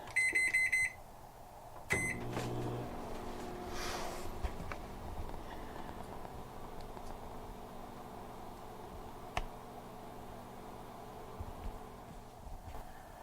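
Microwave oven running in an RV kitchen: a few short electronic beeps at the start, then a faint, steady low hum with light background noise throughout.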